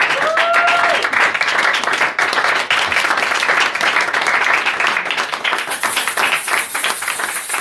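A church congregation at a Sunday service claps loudly and steadily in praise of Jesus, many hands forming a dense, sustained applause, with a brief sung or called tone at the start.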